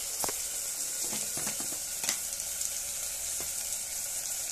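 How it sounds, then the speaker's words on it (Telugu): Onions, ginger garlic, cumin and mustard seeds fry in hot oil with a continuous close sizzle, punctuated by scattered small pops and a few stirring clicks. "ఆనియన్స్, అల్లం వెల్లిపాయ, జీలకర్ర ఆవాలు అన్నీ ఫ్రై అయిన తర్వాత కొంచెం పసుపు వేసుకుందాం."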